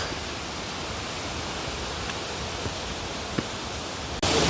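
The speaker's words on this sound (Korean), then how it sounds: "찬바람이 막 불어요" Cold wind rushes steadily through a mossy mountain valley on Gariwangsan, a continuous broad hiss like a gust-filled roar with faint clicks, ending in a brief louder burst.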